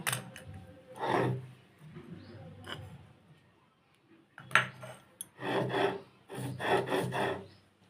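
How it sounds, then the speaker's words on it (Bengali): Coconut is ground into paste on a traditional grinding stone. Stone scrapes against stone in rhythmic, rasping strokes that swell and fade, some longer and heavier than others. "এবার আমি নারকেলটা বেটে নেব"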